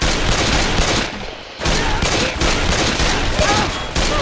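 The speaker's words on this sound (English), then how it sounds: "I'm shooting some damn zombies." Rapid continuous gunfire at zombies in the video game Left 4 Dead, loud and dense with a brief pause partway through before the shooting resumes.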